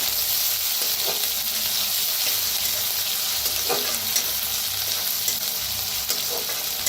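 A crushed paste of green chilli, garlic and cumin fries in hot oil in a pan, producing a steady, bright, close sizzle with a few soft stirring scrapes scattered through.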